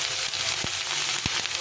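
Green bananas and mixed vegetables fry in a pan with a steady, close sizzle, and two short stirring knocks break through it.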